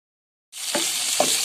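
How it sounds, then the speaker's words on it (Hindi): Vegetables for chicken jalfrezi hitting hot oil on high flame, bursting into a loud, continuous sizzle after a moment of silence, with a couple of soft stirring scrapes. "अब हमने ये सब्जियों को हमने हाई फ्लेम पे फ्राई करना है।"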